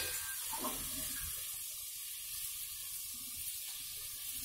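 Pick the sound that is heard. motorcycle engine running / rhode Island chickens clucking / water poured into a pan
water poured into a pan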